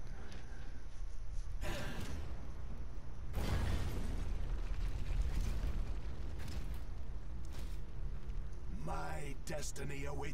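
A rocket explosion in Transformers Devastation, a sudden loud burst with a rumbling tail that sits among other game blasts and mechanical effects, while someone talks.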